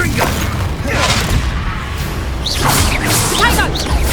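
Confringo spell cast in the Hogwarts Legacy video game during a final battle, with loud whooshing fiery blasts and booming impacts over dense combat noise, and voices speaking over the action.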